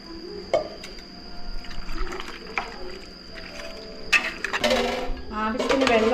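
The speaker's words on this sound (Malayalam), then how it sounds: "നല്ല തിളപ്പിച്ച വെള്ളം തിളപ്പിച്ച വെള്ളം ഒഴിച്ചു കൊടുക്കുകയാണ്" Boiling water is poured into a pot of native (country) chicken curry, giving a brief splashing pour with clinks of pot or utensils, fairly close, over a steady kitchen background hum.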